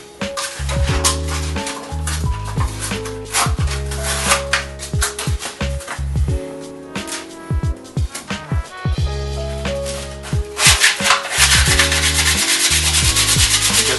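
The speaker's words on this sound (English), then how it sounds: "And just start sanding it down." A large piece of sandpaper rubs back and forth over a wooden rifle stock, giving close, rhythmic scratchy strokes that shift in pace, with a few short pauses and a busier, denser stretch near the end.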